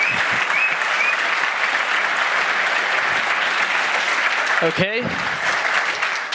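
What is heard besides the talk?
audience applause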